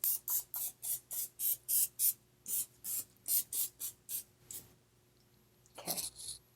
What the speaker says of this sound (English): I'm going to spray the dish down over here.